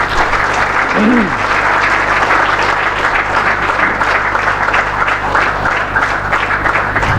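A church congregation gives loud, sustained applause at a Marian Bible-verse service, with steady clapping filling the whole stretch and a brief voice rising early.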